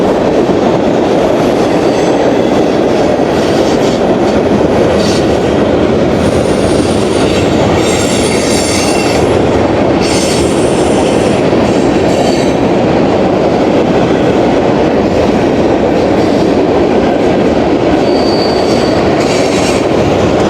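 Freight train rolling eastbound at an abandoned railroad townsite, a loud continuous rumble of wagons with wheel clatter and high squeals flickering above it, sustained and close for the whole stretch.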